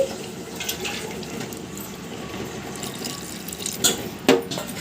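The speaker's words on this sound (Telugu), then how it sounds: "వాటర్ పోసుకోండి చూడండి ఇలాంటి గ్లాస్తో ఒకటిన్నర గ్లాసు వాటరు వేసుకోండి" Water pours from a small glass into a pot of brinjal and raw mango curry, a steady close splashing trickle with a few sharper drips and clinks, no talking.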